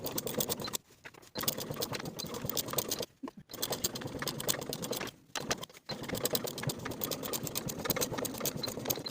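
A sewing machine top stitches a jacket pocket flap in rapid bursts of close mechanical stitching, pausing briefly several times between runs, with no talking.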